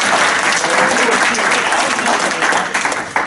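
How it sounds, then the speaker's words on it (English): Loud, close room applause for a person standing up, a steady mass of clapping that tapers off near the end with a few last claps. "Let's give him a quick round of applause."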